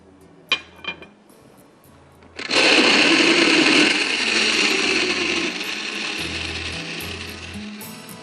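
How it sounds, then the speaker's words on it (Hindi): A kitchen blender whirs up loudly after a couple of clinks, blending frozen blueberries in a steady, dense roar that eases slightly as it runs, with no talking. "अच्छी तरह से ब्लेंड कीजिए।"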